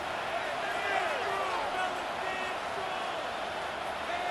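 A steady wash of stadium crowd noise from a Madden NFL 26 football game, a constant moderate roar with faint whistle-like tones drifting above it.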